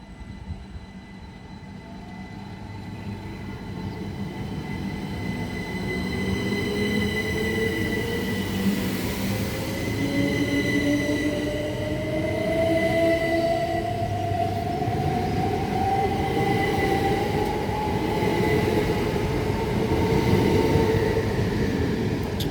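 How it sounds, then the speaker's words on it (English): A Southeastern Class 375 electric train, on the Hastings to London Charing Cross service, runs through Tonbridge on the main line, its rumble building as it nears, with rising motor whine and high wheel squeal as it passes close by. "the 1117 Southeastern service from Hastings to London Charing Cross. We're led by 375622"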